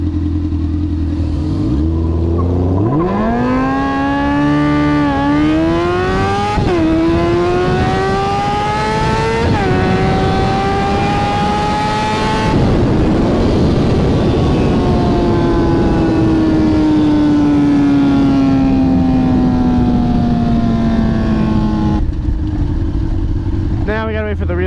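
A 600 motorcycle races a supercharged Mustang GT on the street, loud and close, engines revving hard and climbing through several gear shifts before settling into a long, steady, slowly falling drone.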